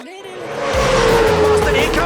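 Supercars Championship race cars at Bathurst, a loud, close engine roar that swells in after a brief quiet start and holds at full intensity, with a high whining tone running through it.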